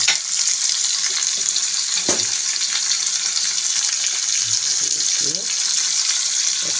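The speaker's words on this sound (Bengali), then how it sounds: "একটু হালকা আছে আলুগুলো ভেজে নেব" Potato pieces fry in a pan with salt and turmeric, a constant close hiss and crackle broken by occasional stirring clunks and utensil taps.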